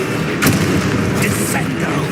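The Confringo fire spell in Hogwarts Legacy lands with a few dull, booming blasts inside a thick wash of game noise, while a voice talks alongside.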